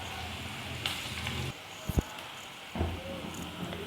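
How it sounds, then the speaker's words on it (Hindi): Okra (bhindi) frying in hot oil gives a steady sizzle that drops away halfway through, with a few brief clinks and stirring sounds before the sizzle returns. "ये देखें जी, 2-3 मिनट हो गए हैं भिंडी को फ्राई करते हुए"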